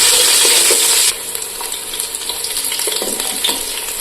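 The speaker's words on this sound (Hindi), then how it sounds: "तेल गरम हो बर्तमान पियाज भाजीदवा।" Onions for chicken biryani sizzle loudly in hot oil in a pan, a bright hiss that settles into softer crackling with occasional stirring clatter, heard close.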